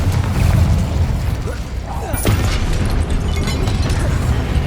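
Incendio and Confringo spells cast in the video game Hogwarts Legacy, loud whooshing bursts and fiery explosive pops amid a rumbling battle din, with spoken voices shouting over it.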